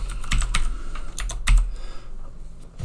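Quick, uneven clicks of typing on a computer keyboard, close and crisp, in short bursts with brief pauses and no talking.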